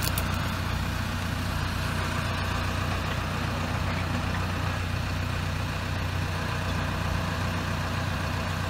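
A tractor engine idles with a steady, low rumble that holds even and unbroken throughout, fairly close, with no voices.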